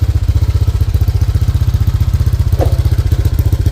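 A Honda Click 125 scooter, set up at 160cc, idles steadily while warming up, with a fast, even low putter and a light mechanical clatter heard up close and alone.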